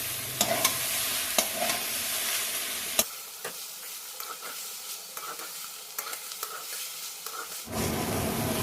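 Potatoes and cabbage mashed with a metal spatula in a pan for a vegetarian cabbage dish, giving close scraping and stirring sounds with light sizzling and a few sharp taps against the pan.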